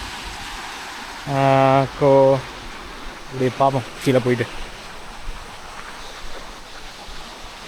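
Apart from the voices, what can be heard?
water flowing at Fairlawn waterfall, Upcot, Sri Lanka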